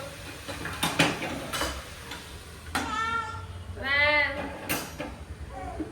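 Country-style native chicken biryani is stirred in a pot, giving sporadic metallic clanks and scrapes, with a few bleat-like animal calls nearby and no talking.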